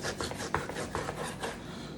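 A knife slices through a head of cabbage for Southern fried cabbage with quiet, rhythmic rasping and crunching strokes, close but faint and heard alone.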